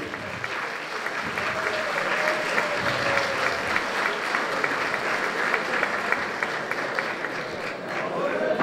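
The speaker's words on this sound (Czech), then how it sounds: "Pořádný potlesk pro ně, protože dnešní večer bude jejich." Hearty audience applause greets a technical secondary school's graduating class at their school ball, a dense, sustained roar of clapping lasting several seconds, with crowd voices mixed in.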